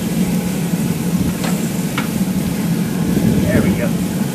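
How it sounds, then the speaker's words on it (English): Beef tenderloin filet searing on a REC TEC pellet grill grate, a steady close sizzle and hiss throughout with a couple of brief scrapes or clinks over it. "Let that sear."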